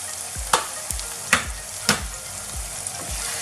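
Chicken bhuna with turmeric, coriander, cumin and curry powder sizzles steadily in a pan, with about six firm spatula scrapes and knocks at a fairly even pace, close and clear.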